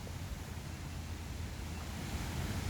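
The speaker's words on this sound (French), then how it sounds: "On est en direction d'une cascade qui s'appelle Moose Fall." Moose Falls waterfall in Yellowstone, heard from a distance along a trail as a steady, low broadband rush of falling water, mixed with some wind, with no talking.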